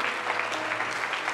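A church congregation claps in a brief burst of steady, dense applause filling the room, with no one talking over it.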